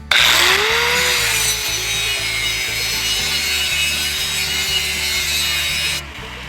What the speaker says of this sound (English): Reciprocating saw, even with the dull blade, is much faster.